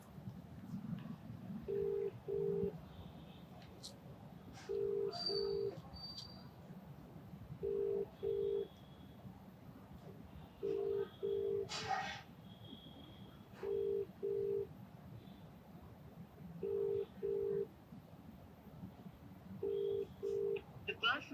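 A phone call rings out on speaker, with paired electronic ringback tones repeating every few seconds over a low hum and faint background voices.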